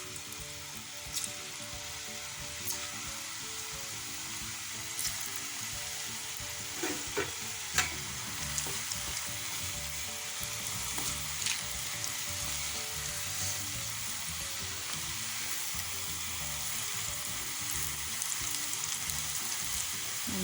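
Chegodilu rings of dough fry in a pan of hot oil, giving a steady, dense sizzle and crackle that runs continuously, close and even, with a few light clinks of utensils and no voices.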